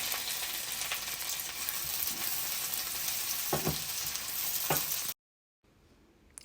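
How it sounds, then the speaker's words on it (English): Onion and chili fry in a pan of hot oil and butter, giving a steady, close sizzle for about five seconds before it cuts off abruptly and a much fainter stretch follows. "Add chili and fry for 2 minutes."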